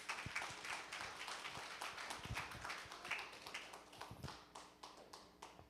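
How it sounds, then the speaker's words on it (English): Warm applause from a Sunday morning congregation welcoming Reverend Eric Silty: a dense, steady patter of many hands clapping throughout, fairly loud and close, with no voices over it. "please give a warm round of applause to Reverend Eric Silty"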